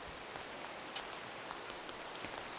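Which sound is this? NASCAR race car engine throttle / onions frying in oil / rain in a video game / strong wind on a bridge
rain in a video game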